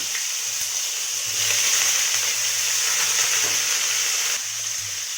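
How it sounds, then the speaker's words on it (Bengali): Cubed paneer, about 300 grams, fries in hot refined oil in a kadai, giving a loud, steady, close sizzle that swells slightly after the first second and holds without pause. "তেল আমার গরম হয়ে গেছে এবার আমি দিয়ে দেবো এখানে কেটে রাখা পনির"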